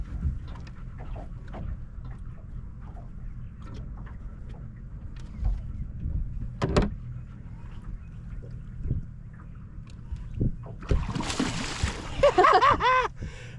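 Scattered creaks and knocks give way to a burst of splashing and sloshing water close by near the end as a large blue catfish is released, with faint voices in the background.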